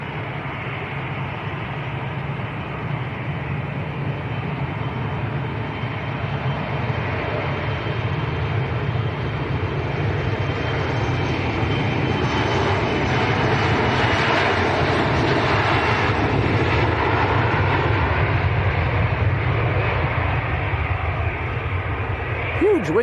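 A fixed-wing airliner bound for Amsterdam departs from Manchester Airport, its engines a steady, broad roar that swells slightly toward the middle and holds throughout, with people chatting over it.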